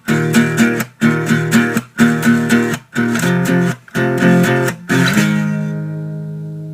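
Distorted electric guitar power chords from the second part of the verse of a song, five chopped, rhythmic chord bursts and then a final chord left ringing to fade, played alone and up close.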